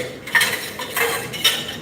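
Pots, pans and cutlery clatter in a kitchen, a few metallic clanks and scrapes landing in quick uneven bursts at moderate volume with no talk over them.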